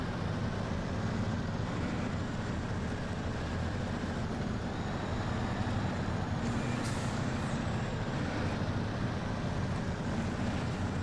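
Fleet Star truck towing another vehicle in SnowRunner, a continuous heavy engine rumble with a steady broadband roar and no talk.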